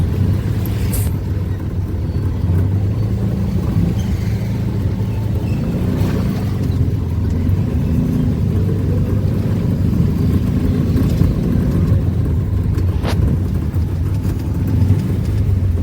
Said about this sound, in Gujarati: આખી રિક્ષા હાલી ગઈ છે.